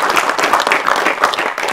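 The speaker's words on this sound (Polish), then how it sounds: "Wielkie brawa dla niego!" An audience at an anniversary celebration gives a guest a loud burst of applause, dense clapping filling the room close by throughout.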